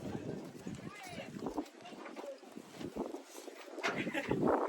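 Horse hooves clip-clopping amid a busy outdoor crowd at a bullock cart race in Nashik, with people talking loudly nearby throughout.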